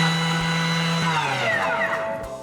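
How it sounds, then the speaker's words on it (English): A Thermomix TM6 spins at top speed 10 to grind sugar into powder, a loud, close, whining motor roar whose pitch shifts down as the blades churn before it winds off, with no voices. "Going to go 10 seconds at a speed 10"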